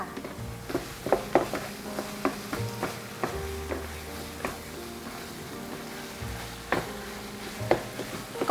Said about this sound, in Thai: คั่วไปสักพักนะคะจนกว่าเนื้อสัตว์เนี่ยมันจะสุกทั้งหมด